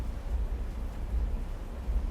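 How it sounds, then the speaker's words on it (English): Rain falls in a soft, steady low rumble that blends with wind, a faint continuous wash with no voices. "Is that rain? God damn it, shouldn't be rain."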